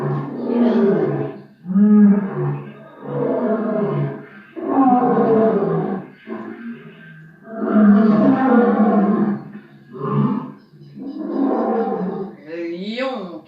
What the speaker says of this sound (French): le lion qui rugit